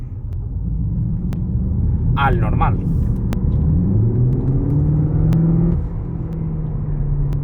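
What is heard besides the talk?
Cupra car engine while driving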